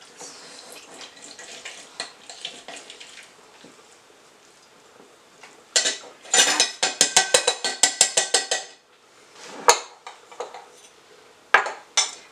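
A spoon working a lemon half to juice it for lemon bread, giving soft scraping that turns into a loud, rapid run of metallic clinks and clatter against a dish, then a few sharper isolated knocks, with no talking.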